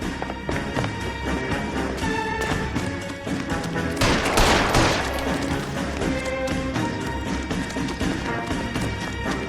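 Gunfire erupts in the L.A. Noire video game, with dense bursts of shots, crashes and thuds layered over a busy game soundtrack, peaking in a loud cluster midway through.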